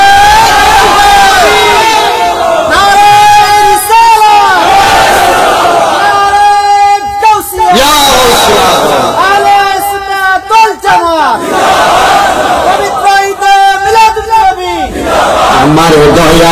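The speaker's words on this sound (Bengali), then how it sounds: "জবান খুলে একটা তাকবীর হবে জোরে" A crowd at a Bengali Islamic waz sermon shouts a takbir chant in loud, repeated bursts of many voices together, each call rising and falling, filling the space with little pause between rounds.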